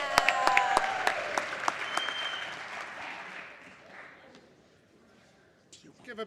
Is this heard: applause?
yes